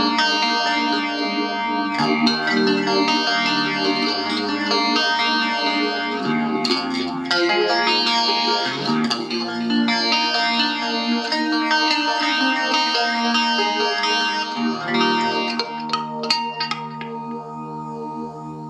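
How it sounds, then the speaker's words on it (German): Clean electric guitar played through a Marshall MG2FX amp with reverb, delay and phaser, sustained chords and notes ringing out loud and continuously with a swirling, echoing wash and no talk. "Hier ein ganz cleaner Sound mit Reverb, Delay und Phaser."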